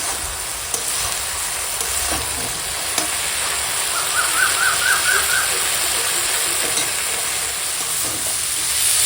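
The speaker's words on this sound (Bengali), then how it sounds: "এখন কলমি শাকটা সুন্দর করে ভাজা হয়ে গেছে" Kalmi greens, or water spinach, frying in a pan with a steady close-up sizzle and hiss that carries on throughout, with a few faint clinks of utensils.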